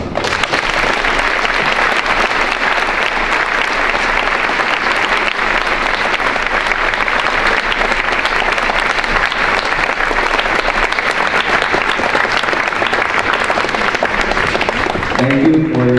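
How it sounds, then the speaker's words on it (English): A school gym audience at a Veterans Day program applauds veterans in a long, loud, steady roar of clapping that holds for the whole stretch and only thins at the very end. "Let's give a round of applause for all veterans."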